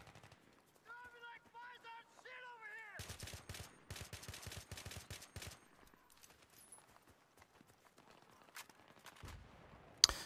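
AN-94 assault rifle fire in Battlefield 3, rapid bursts of close automatic shots crackling in tight clusters, preceded by short voiced game sounds and trailing into quieter scattered noises.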